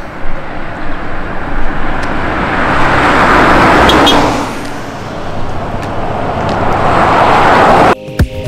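A car passes on a rural road between Adelaide and Melbourne, its tyre and engine roar swelling loud and close before fading, with a second vehicle rising afterward and a sharp cut near the end.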